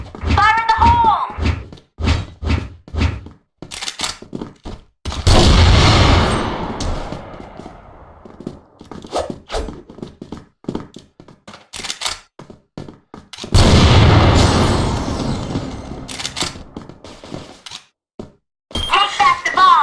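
In a shooter video game, two thrown grenades explode with loud, booming blasts that fade out over several seconds. Between the blasts come sharp gunshots and thuds, and players shout callouts.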